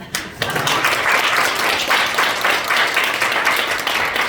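Audience applause at a health lecture, sustained clapping from a crowd filling the room after a brief pause at the start, steady and fairly loud throughout.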